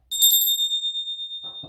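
A single bright bell-like ding of a notification chime rings out and lingers, slowly fading, with faint speech starting near the end.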